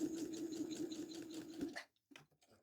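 A sewing machine runs steadily for under two seconds while stitching fabric for a Christmas table set, close and even, then stops, leaving a few soft handling clicks.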